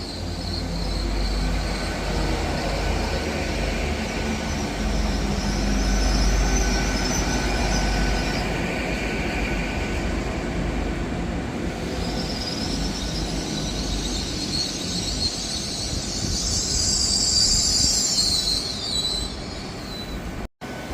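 LNER service from Aberdeen to London King's Cross, an 800-104 unit, arriving at Inverkeithing station: a long, steady rumble of wheels on rails with high brake squeals building near the end, close and loud.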